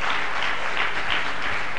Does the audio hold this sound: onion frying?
no